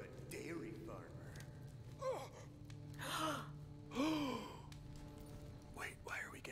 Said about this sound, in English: Wait, why are we gasping?